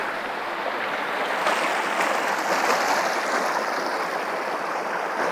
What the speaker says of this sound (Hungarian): Annyira jó hallgatni ezt az egész vízmorajlást.